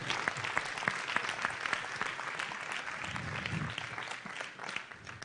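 Church congregation at a shared worship service applauding for several seconds, a dense steady wash of many hands clapping with sharp individual claps standing out, fairly loud and continuous before easing slightly at the end.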